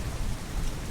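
Steady rain falls on a dark road at night, a dense, even hiss with a low rumbling undertone, continuous and fairly loud with no voices.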